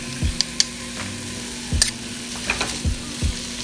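Chorizo frying with onions and minced garlic in a pan, a steady low sizzle broken by several sharp knocks and scrapes as the meat is mashed, close and without talk.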